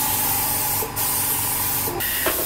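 A spray gun applies thin, even coats of epoxy primer to a car at about 29 pressure, giving a loud continuous hiss broken by two brief pauses between passes, with no one talking.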